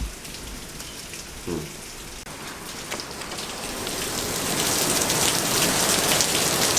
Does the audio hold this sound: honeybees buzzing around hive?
no